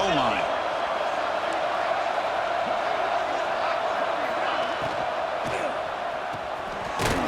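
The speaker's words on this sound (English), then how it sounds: "The crowd really making some noise now, trying to help out this defense to get this stop near the goal line." Stadium crowd cheering and roaring at a football game as the defense tries to hold near the goal line, a loud continuous din with shouts and thuds, under an announcer's commentary.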